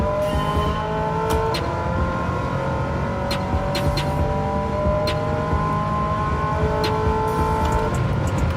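A Ferrari 308 engine in Gran Turismo 7 holds a loud, steady drone at high revs, with a few rises and dips in pitch and faint ticks from the track, and no speech.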